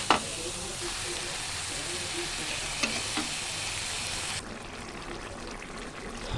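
Pointed gourd and potatoes stirred into hot frying spices for a potol and prawn curry, a steady close sizzle with a few scraping stirs, easing slightly toward the end.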